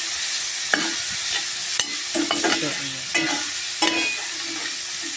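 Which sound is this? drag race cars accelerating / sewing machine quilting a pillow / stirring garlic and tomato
stirring garlic and tomato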